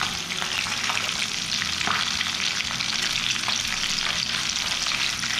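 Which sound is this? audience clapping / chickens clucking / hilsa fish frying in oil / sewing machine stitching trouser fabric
hilsa fish frying in oil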